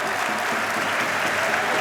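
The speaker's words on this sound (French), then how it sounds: "applaudissements pour Sambou Traoré" Crowd at a Cholet basketball game applauding a player fouling out, a dense, even roar of clapping from many spectators that sounds distant and fills the whole stretch without pause.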